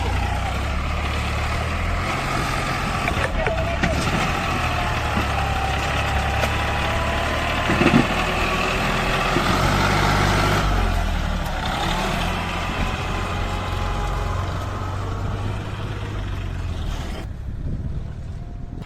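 A Sonalika DI 740 tractor engine idles close by in a steady low rumble with a faint knocking pulse that holds throughout, a brief bump near the middle and fading slightly toward the end.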